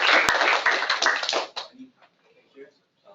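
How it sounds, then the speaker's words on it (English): Short audience clapping at an academic seminar, a close cluster of claps that stops abruptly after about a second and a half, followed by quiet with faint scattered sounds. "Let's give him a round of applause."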